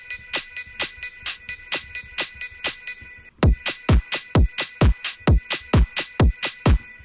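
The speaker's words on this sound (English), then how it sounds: "So together, all of our percussions sound like this." Layered electronic percussion for a bass house track made in FL Studio: a dry, steady pattern of sharp hits, joined midway by punchy kicks that fill out the loop.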